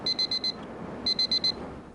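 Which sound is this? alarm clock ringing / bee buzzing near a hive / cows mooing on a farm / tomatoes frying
alarm clock ringing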